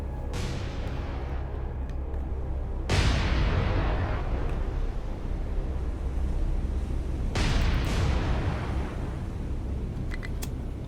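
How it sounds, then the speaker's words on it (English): Warship launching torpedoes in a naval battle from War on the Sea, three heavy booming launches spaced a few seconds apart over a constant deep rumble of the ship, loud and without talk. "Might as well fire our torps."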